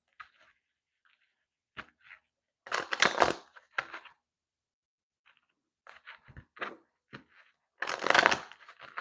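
Tarot cards being shuffled in several separate bursts, crisp riffling flutters close up with quiet pauses between them.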